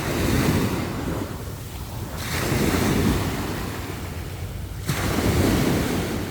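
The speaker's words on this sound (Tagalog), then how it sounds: "yan ang dagat" Sea waves roll in and wash out repeatedly, with heavy surf surges separated by brief lulls, along with wind buffeting the microphone.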